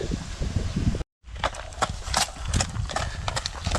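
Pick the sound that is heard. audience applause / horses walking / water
horses walking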